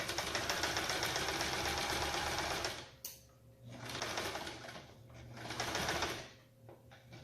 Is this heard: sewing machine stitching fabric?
yes